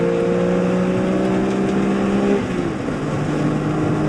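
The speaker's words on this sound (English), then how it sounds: "Full throttle through here, a little lift to get the car set." A BMW E46 M3 track car at a Sonoma track day runs at full throttle, a loud continuous engine drone with rising tones that briefly dips partway through as the driver lifts.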